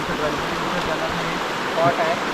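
River water rushes steadily in a loud, continuous wash, with faint voices barely audible beneath it.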